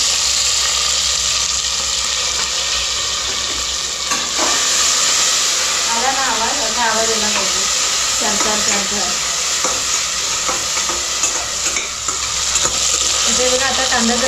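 Chopped onion, green chili and tomato sizzle and fry steadily in a pan for pulao, with repeated stirring scrapes and clicks over a constant loud hiss, and no talk.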